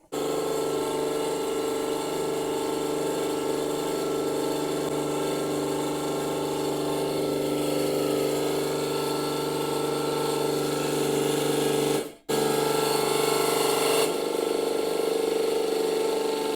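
A 100-ton hydraulic cold press for pressing oil builds pressure for a second pressing, giving a steady, loud motor-and-pump drone that runs unbroken, cuts out for a moment, then resumes.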